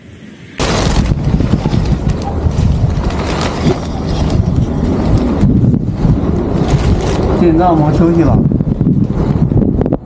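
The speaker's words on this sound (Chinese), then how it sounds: "听一听这后面风上这种风吹的声音。" Strong force-seven wind during a cold snap in Inner Mongolia roars and buffets a camping tent pitched beside a wall, a loud continuous rushing rumble with someone speaking over it.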